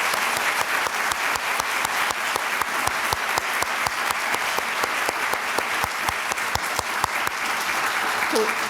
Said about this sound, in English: And so we can now applaud for all of the 5 winners.